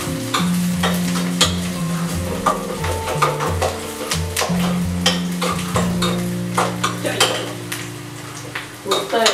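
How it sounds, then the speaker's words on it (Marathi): Onions and cumin fry in hot oil in a home kitchen pan, with a steady loud sizzle and spattering throughout, while a utensil stirs and scrapes against the pan in frequent sharp clinks. "उडतंय काय उडतंय, अंग पे उड़ रहा है मेरे तेल"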